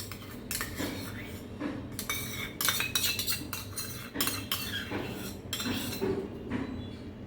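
Spoon clinking and scraping against a bowl while tomato sauce and veg mayo are mixed together, a steady run of close metallic taps and scrapes with no talking.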